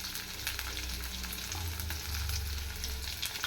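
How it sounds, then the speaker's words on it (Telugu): Chopped onions and a green chili fry in hot oil, a close, steady crackling sizzle with faint stirring scrapes and no one speaking. "చిన్న కట్ చేసి పెట్టుకొని ఉల్లిపాయలు అయితే వేసేస్తున్నాను."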